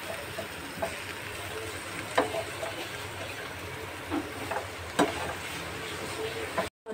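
Chopped baby corn, carrot, and red and green cabbage are tossed and stirred together in a hot pan, giving a continuous sizzling hiss with occasional soft scraping knocks from the spoon.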